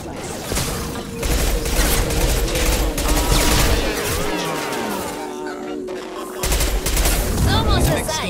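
Rapid bursts of automatic gunfire crackle through a firefight in the sci-fi shooter Mass Effect 2, loud and near, with a short lull before the shooting resumes.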